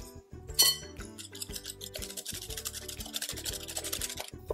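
A whisk works chocolate pancake batter in a bowl, with light rhythmic clinks and scrapes against the side, close and quiet, over soft background music.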